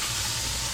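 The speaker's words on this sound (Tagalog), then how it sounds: "Yung kanin natin, no? Kumulo na." Pot of rice at a full boil, a steady close hiss of steam and bubbling that holds evenly through the brief moment with no breaks.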